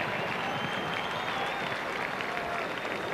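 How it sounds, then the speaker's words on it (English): A racecourse crowd applauds a winning horse at a 1999 race meeting, a dense, even wash of clapping and crowd noise heard from a distance under a commentator's voice. "Huge applause surrounding me"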